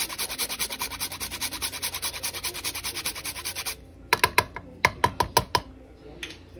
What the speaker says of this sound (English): I'm gonna go in and grate about a teaspoon of nutmeg